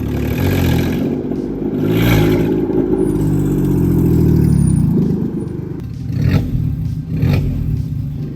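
Loud, close roar of a Porsche Cayenne base model with VR6 engine and self-made straight-piped exhaust accelerating hard, engine note rising and falling through gears with rough rasp, then rapid revs fading near the end.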